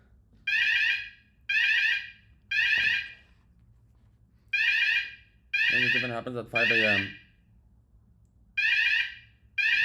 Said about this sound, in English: This fucking fire alarm.